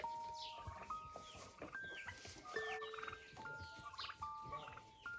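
Several turkeys gobble in repeated rippling bursts, with some overlapping, in a sunny grassy yard on a dacha where the birds lie resting after grazing. Distant farmyard sounds sit faintly underneath.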